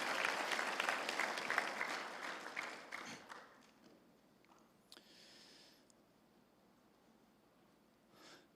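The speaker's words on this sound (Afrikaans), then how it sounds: "Ek dink ons kan vir die Here 'n hande klap gee." A church congregation at an evening service claps hands together in a dense, loud burst for about three seconds, then the applause thins out and fades into quiet room noise with a few scattered sounds.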